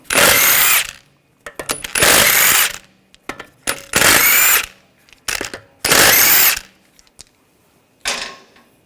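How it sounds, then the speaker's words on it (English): Power tool with a 17mm socket spinning out front wheel lug bolts on a 2007-2013 BMW X5: four loud, close whirring bursts in a steady rhythm, with clinks and rattles between them and a shorter final burst. "Use a 17mm socket. Take the lug bolts out."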